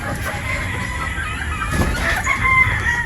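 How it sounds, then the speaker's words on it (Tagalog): Boston Roundhead chicken pullets cluck and crow close by, a rooster-like crow rising from the flock over steady farmyard background noise. "ito na po mga bossing yung ating uh, Boston Roundhead Pulit"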